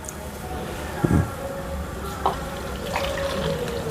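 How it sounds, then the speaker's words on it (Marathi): Water is poured from a tap into a vessel for soaking rice, giving a steady running, filling sound with a few splashy bumps. It is close and moderately loud. "पाणी टाकूया"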